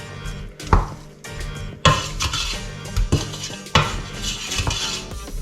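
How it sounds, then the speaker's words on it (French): Apples and sugar being stirred in a pot for homemade compote, a spoon scraping and knocking against the pot in repeated strokes with soft wet squelching between, close and alone. "On mélange bien, que les pommes prennent bien le sucre."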